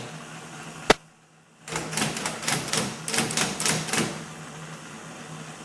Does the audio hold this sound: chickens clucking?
no